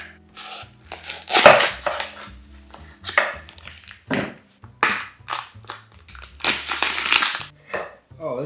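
A Korean chef knife slices through frozen pork with repeated crisp, crunchy cuts and taps against a board, loud and close in an uneven rhythm.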